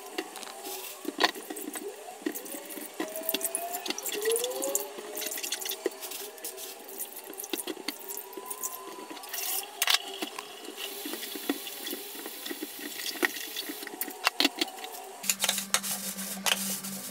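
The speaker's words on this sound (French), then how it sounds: "je vais venir dans un premier temps tremper mes légumes dedans et je viendrai les rincer par la suite." Water runs and splashes in a kitchen sink where vegetables soak in hot water with vinegar, with drips and sloshing for the full stretch. A tap sound shifts near the end, and nobody speaks.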